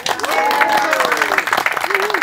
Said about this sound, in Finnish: muistakaa Anulle, nyt, Anulle aplodit nyt